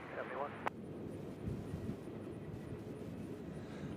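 An airplane takes off on a runway at Nashville International Airport, a faint, distant, continuous engine rumble that holds steady over a low outdoor background.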